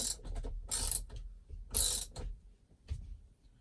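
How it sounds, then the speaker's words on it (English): A screw is tightened into a Tesla Model 3 steering wheel, producing a few close, loud bursts of ratcheting and mechanical clicking separated by short quiet gaps, with no talk. "We'll screw this on. And tighten it up."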